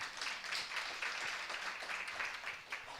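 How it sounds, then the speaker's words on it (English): An audience at the He for She project launch gives a round of applause, moderately loud clapping that carries on steadily with slight swells and dips. "you can give them a hand of applause"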